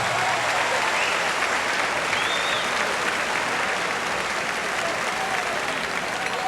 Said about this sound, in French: On applaudit encore une fois Jean Béliveau et Maurice Richard.